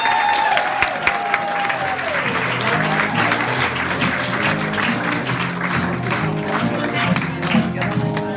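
Sustained audience applause and cheering for a comedian at a sit-down comedy cabaret, dense clapping from a crowd that carries on steadily throughout, with a brief whistle-like tone at the start.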